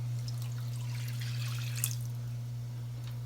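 Seven ounces of water poured into a pan with butter and sugar for banana churro dough, a steady faint trickle and splash over a constant low hum, with no talking.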